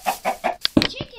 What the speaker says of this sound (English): Chickens! Haven't seen some of these in a while.